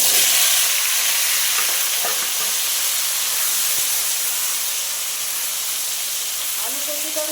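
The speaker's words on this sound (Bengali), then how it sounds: "আলু কচুটা আমি খুব সুন্দর করে ভেজে নেবো" Potato and taro pieces frying in hot oil with five-spice, a loud steady sizzle and hiss close up that runs continuously with faint stirring.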